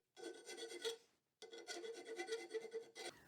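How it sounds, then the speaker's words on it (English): A file rasps back and forth over the rough edges of a freshly cut hole in metal, in two close bursts of quick rhythmic strokes separated by a short pause. "it was time to file it down and smoothen it all off so that the earthing cable wouldn't chafe on any of the sharp edges"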